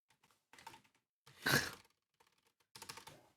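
Computer keyboard keys tapped in three separate bursts while deleting text, close and fairly quiet, with a louder breathy sigh-like burst in the middle and silence between.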